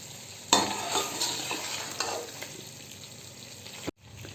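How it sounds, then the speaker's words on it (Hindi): Tender goat head (siri) being fried and stirred in a pot, a loud, close hiss of frying with a spoon scraping through it, cut off abruptly near the end, with no voices. "हमारी गल चुकी है, हम इसलिए इसे भून रहे हैं।"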